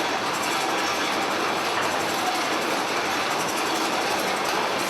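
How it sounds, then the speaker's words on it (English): Old printing machines in a Blairgowrie print works clatter continuously and loudly, producing a dense, unbroken mechanical rattle and chatter of moving parts with no voices over it. "The machines all have their own purpose, their own character. The clattering and chattering parts almost speak to us."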